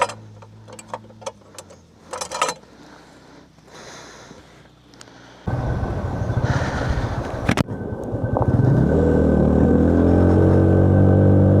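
A motorcycle climbs a hill road from Boga Lake toward Keokradong in Bandarban. Scattered clicks and rattles give way to a loud, close engine drone that rises in pitch as it labours uphill.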